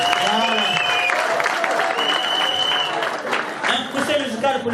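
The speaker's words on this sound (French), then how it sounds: "Est-ce qu'on peut applaudir une fois?" Sustained applause from a gathered crowd at a customary Congolese wedding, loud and steady throughout, mixed with a background voice and a held musical tone.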